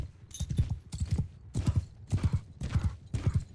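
Horse hooves gallop in the Mount & Blade II: Bannerlord battle game, a steady rhythmic clip-clop in repeated bursts, close and fairly loud, with no talk over it.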